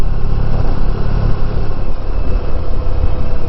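1994 Honda ST1100 motorcycle engine running on a ride, a loud steady rumble with constant wind-like roar throughout, close and alone.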